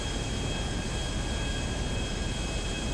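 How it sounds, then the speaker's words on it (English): A small plane's engine in GTA 5 drones at a constant, loud, even pitch, with no voices over it. "This is a small plane, by the way, guys."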